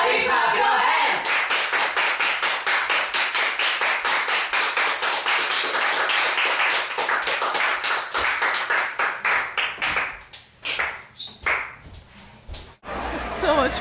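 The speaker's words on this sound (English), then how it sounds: "Everybody clap your hands!" A group of people claps hands in a fast, steady rhythm for about ten seconds, then breaks into scattered claps. Voices and chatter mix in beneath, and everything is loud and close.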